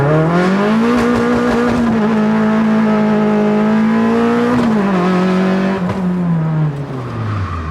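A Toyota Starlet with a 5E-FE engine on individual throttle bodies running methanol, revving hard through second gear with a loud, rising engine note that holds high, drops briefly at a shift and then falls away, heard from inside the car.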